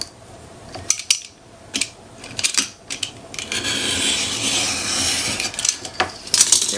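Paper being trimmed by hand for a card cover, with a few separate snips and rustles, then a longer continuous scraping cut, close and moderately loud, no speech.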